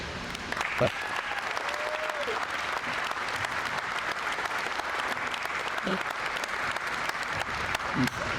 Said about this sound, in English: I'd like a warm round of applause for Ed as he comes up